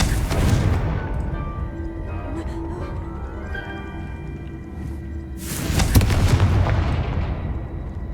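A Confringo fire spell in the video game Hogwarts Legacy goes off as a loud booming blast with a rumbling tail, followed a few seconds later by a second explosive burst and crackling debris, with no talking over it.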